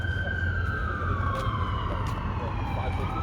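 An ambulance siren wails steadily on a busy city street near 23rd Street, loud and continuous over dense traffic rumble and urban noise.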